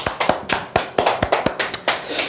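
A small audience claps together at a seminar, sharp hand claps landing in a quick, fairly regular rhythm for a couple of seconds, close and loud.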